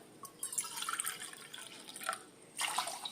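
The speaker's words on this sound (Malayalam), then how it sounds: "2 കപ്പ് വെള്ളം ഒഴിച്ച് നമുക്കൊന്ന് വേവിച്ചെടുക്കാം" Water is poured over sliced carrots in a cooking vessel, heard as a faint, close splashing and trickling in two bursts with a short pause between.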